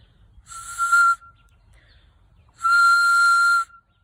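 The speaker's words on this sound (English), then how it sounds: "Other thing that we had made from the elderberry is whistles." Homemade whistle carved from an elderberry branch, blown in two shrill bursts, a short one then a longer one of about a second, loud and close with silence between.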